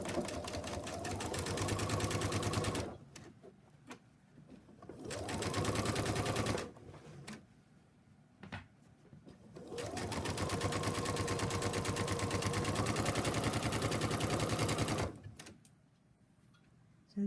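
Sewing machine stitching sashing onto a quilt block: rapid, steady mechanical whirring in three long bursts of a few seconds each, separated by short quiet pauses, close and alone.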